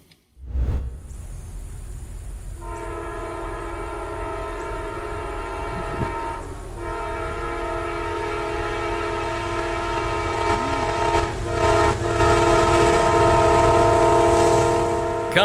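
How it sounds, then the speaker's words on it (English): An Amtrak passenger train approaching at 79 miles per hour sounds a long, loud, sustained multi-tone horn over the deep rumble of the rails, growing steadily louder as it nears. "Coming in hot at 79 miles per hour, Amtrak 19"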